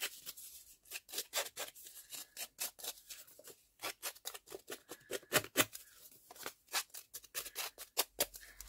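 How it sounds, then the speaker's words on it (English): Scissors scrape and snip rapidly along paper edges to distress them, a quick, rhythmic run of rough rasping strokes, close and fairly quiet, with no talk. "Let's get these scissors. I'm just going to distress the edges a little bit."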